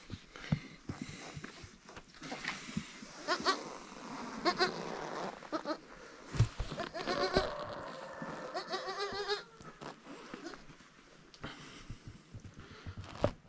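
Goats in a goat tent on a Turkish village livestock farm, bleating repeatedly at close range with snorts and rustling between calls.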